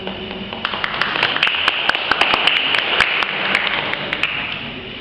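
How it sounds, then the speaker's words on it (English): An audience at a university student debate final in East Java claps for a speaker taking the stage, a dense ongoing patter of hands with a few sharper individual claps standing out, fairly loud and continuous. "A round of applause for her"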